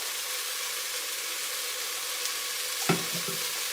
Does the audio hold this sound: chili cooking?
yes